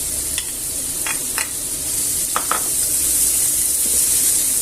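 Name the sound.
onions and peppers sizzling in oil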